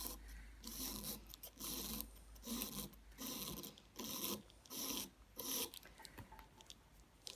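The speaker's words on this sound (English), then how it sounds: "Where the file makes contact with the top of the gel, it'll take the shine off." A nail file rasps across the top of a gel nail in steady back-and-forth strokes, about seven even passes with short pauses between, close and clear with no talking.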